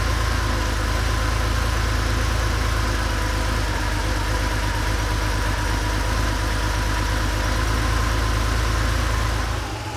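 A Porsche 911 3.2L engine idles steadily up close at about 880 RPM, a low even rumble with a fine rhythmic pulse, running alone for about ten seconds before easing slightly.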